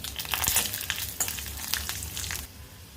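Mustard seeds, peanuts and dried chillies frying in hot oil give a close, busy crackle with sharp pops and sputters scattered over a steady sizzle.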